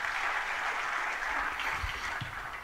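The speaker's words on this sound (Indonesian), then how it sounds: "Tepuk tangan saudara." Applause from a church congregation during a sermon, a steady broad wash of clapping filling the room at moderate, fairly soft level throughout with no talk over it.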